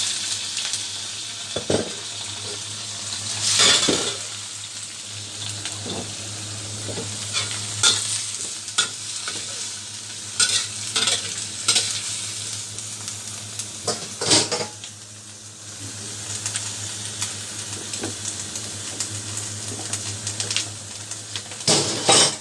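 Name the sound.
stir-frying banana blossom and black ear fungus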